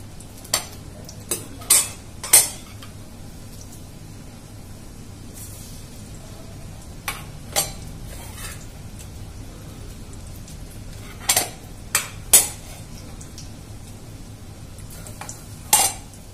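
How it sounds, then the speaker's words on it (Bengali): Snacks deep frying in hot oil, a steady soft sizzle under the sharp clinks and scrapes of a utensil against the pan, coming in scattered bursts with no voices. "তেলের মধ্যে করে নিচ্ছি ডিপ ফ্রাই"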